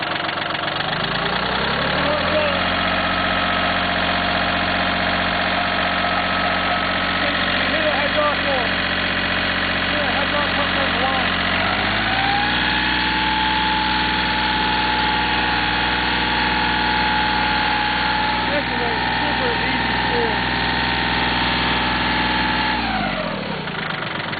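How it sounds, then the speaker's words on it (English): A Cub Cadet tractor engine idles steadily and loudly up close, its pitch stepping up partway through and holding, then dropping near the end, with talk over it. "there she is, guys, a running tractor"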